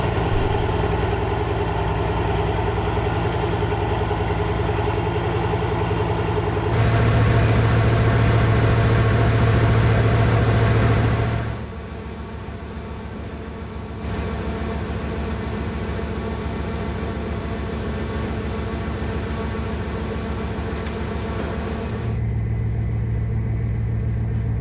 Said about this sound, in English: that was an 8-liter W16 quad-turbocharged engine